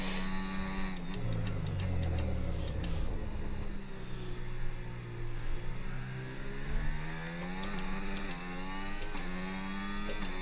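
A race car in the F1 25 video game runs close with its engine note rising and falling as it accelerates and brakes through corners, with no talking.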